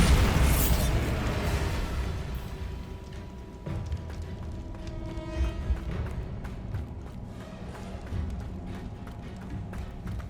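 A Bombarda spell explosion in Hogwarts Legacy: a heavy low boom at the start that decays into rumbling debris, followed by softer thuds and ambient game sounds.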